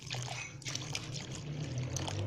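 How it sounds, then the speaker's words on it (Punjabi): Water pouring into a pot in a home kitchen, a steady close trickle lasting a couple of seconds with a low hum underneath. "ਪਾਣੀ ਪਾ ਕੇ ਅੰਦਰ ਰੱਖ ਦਿੱਤਾ ਹੈ"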